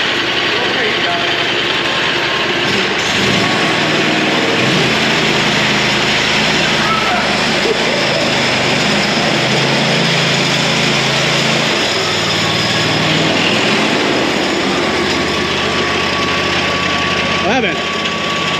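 An old riding mower fitted with a Harbor Freight Predator V-twin engine runs steadily throughout, its loud, continuous engine drone rising and falling slightly as it drives, with people talking and shouting over it.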